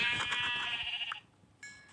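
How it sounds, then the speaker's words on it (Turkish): Sheep bleating in the Minecraft video game, one long wavering bleat followed by a short quieter one after a pause, over faint background clatter. "yiyecek almamız için biraz koyun öldürelim"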